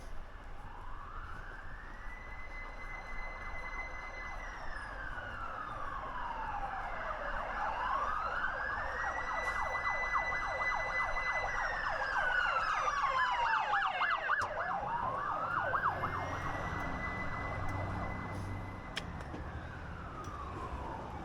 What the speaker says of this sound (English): You can hear the siren for a fire engine.